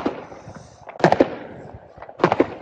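New Year's Eve firecrackers burst in short crackling clusters, two loud volleys of sharp pops about a second apart, with fainter bangs and crackle between them, fairly close.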